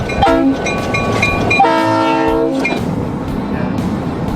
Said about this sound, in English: This is a lucky train. That's an RS3L,